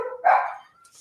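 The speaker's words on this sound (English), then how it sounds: "Excuse my dogs in the background." Household dogs bark at home as children return from school, one strong close bark-like burst followed by a fainter tail and light hiss, no talk over it.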